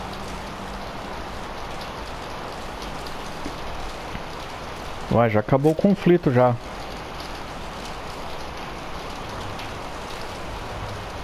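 Steady hiss of falling rain in the video game Far Cry 5 throughout, with a brief burst of someone talking in the middle.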